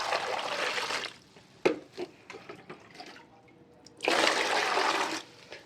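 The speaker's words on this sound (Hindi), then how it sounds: "तो पहले पानी डाल के रख देते हैं।" Water is poured into a container for soaking lotus tubers in fungicide solution, a steady rushing splash that stops, followed by scattered drips, small knocks and handling clatter, then another strong pour starting up close.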